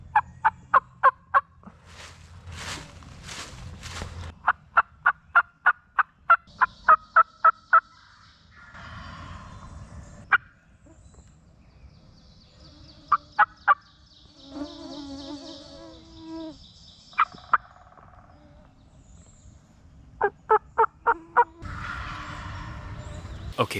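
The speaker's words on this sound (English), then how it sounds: "The turkeys are going circles around us, and there are 3 toms just going circles around me" Wild toms gobble close by in bursts of rapid rattling calls, several volleys spaced across the stretch, with quiet outdoor ambience and an insect buzz between them.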